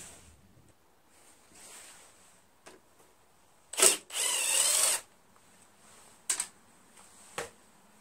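A power tool, likely a drill or impact driver, removes 5/16 bolts from a Briggs engine on an MTD Cub Cadet lawn tractor, heard as a few short bursts and one longer whir amid quiet workshop background.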